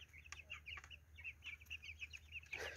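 Chickens clucking in a short run of repeated calls at moderate distance, with steady low background hum and a slightly louder burst near the end.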